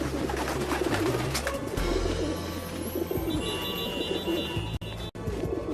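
Pigeons coo repeatedly in a Paris street scene, soft low calls repeating over steady background noise with a brief high tone midway.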